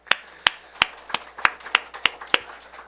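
A church congregation at a Sunday morning service claps in a sparse, evenly spaced run of about nine sharp, close claps, each ringing briefly, with no voices in between.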